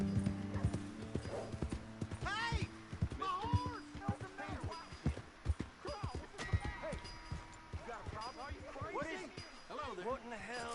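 Rhythmic clip-clop of horse hooves trotting steadily in Red Dead Redemption 2, mixed with game-like ambient tones and occasional snorts, moderately loud throughout.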